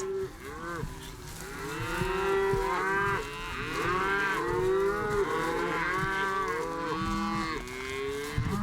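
Several cattle on a prairie ranch moo repeatedly and overlap one another, a loud, continuous chorus of long lowing calls from a nearby herd.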